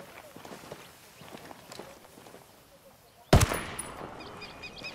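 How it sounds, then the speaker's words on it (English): A sudden loud burst of unsilenced gunfire in Ghost Recon: Wildlands during a corn field attack, coming after quiet footsteps through the field, with a voice talking. "this gun sounds absolutely amazing"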